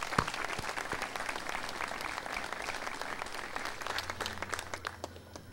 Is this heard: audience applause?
yes